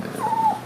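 A single thin, drawn-out whimper from a suffering dog during an emergency, high and steady over a low background murmur.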